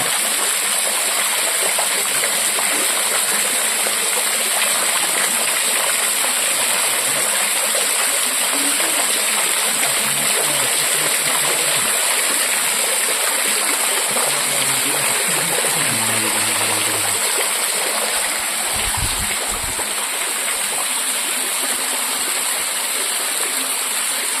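A steady rushing stream of water flows continuously at the Gubbala Mangamma hill temple in Andhra Pradesh, a dense broadband roar that stays loud throughout with faint voices briefly audible underneath.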